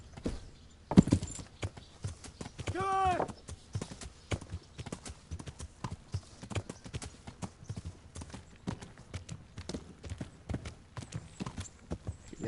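Horse hooves clip-clopping in the medieval video game Kingdom Come: Deliverance, a quiet, steady run of hoofbeats over about twelve seconds, with a short whinny-like cry near the start.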